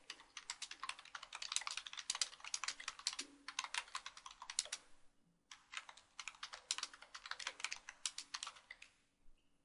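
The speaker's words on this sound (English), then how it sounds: "You can see here I'm typing." Rapid, quiet clicking of keys on a computer keyboard in steady bursts, with a brief pause midway before the typing resumes.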